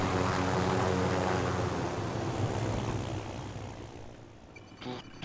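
A helicopter flies in an online shooter, its loud rotor and engine roar filling the scene and slowly fading as it moves away.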